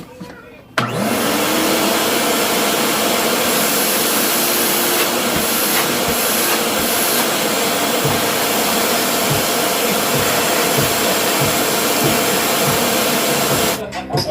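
A vacuum runs on a mitre saw dust collection system, switching on abruptly with a loud, steady whine and roar that holds nearly unchanged for over ten seconds before cutting off at the end.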